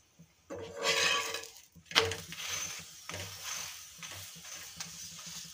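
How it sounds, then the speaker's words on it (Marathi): A Maharashtrian dhapate flatbread roasts with oil on a pan, giving a soft sizzle in bursts along with a few scrapes and light knocks of a utensil, close and fairly quiet. "छान असा खमंग भाजून घ्यायचा धपाटा।"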